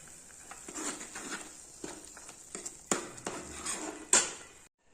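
Cream being stirred into palak paneer in a pan, a spoon scraping and clinking against the metal in irregular strokes, with a few sharper knocks, close and fairly quiet.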